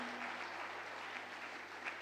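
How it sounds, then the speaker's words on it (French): A congregation claps and applauds in a church service, a steady, moderately distant patter of many hands that holds evenly throughout. "On peut acclamer le Seigneur"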